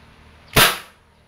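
A Crosman Phantom P10 air pistol fires a single sharp, loud shot that cracks and then trails off in a short decay, standing alone against a quiet background.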